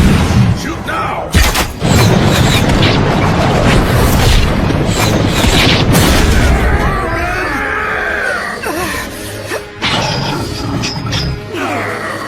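Anime battle scene with a dense, loud barrage of shots and booming explosions, layered with crashes and shouting voices that continues throughout before easing slightly toward the end.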